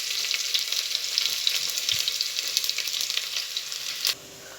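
Sliced shallots fry in a pan for a coconut-based mackerel fish curry, a bright continuous sizzle with light crackling that drops sharply in the final half second.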